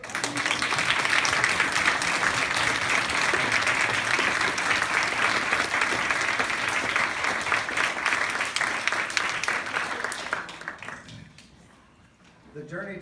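Audience applause at a graduation ceremony, a long steady wash of many hands clapping at moderate volume that fades out near the end, followed by a brief stretch of speech.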